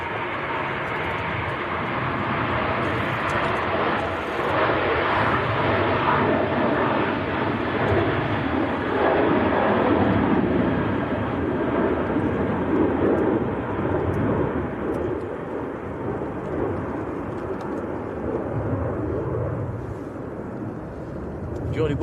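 A Lufthansa airliner on approach to Manchester Airport on a windy day, a long steady jet roar mixed with wind noise, swelling slightly in the middle and easing toward the end, with occasional voices in the background.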